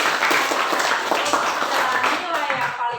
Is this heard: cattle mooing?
no